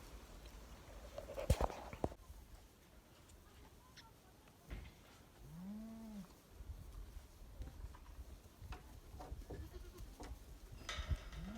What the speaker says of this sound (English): Well, the sheep have been delivered, guys.